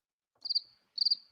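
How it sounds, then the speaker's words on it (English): Two short bursts of cricket chirping used as a sound effect, each a quick pulsing trill, crisp and close against silence. "Where's the cricket sound now?"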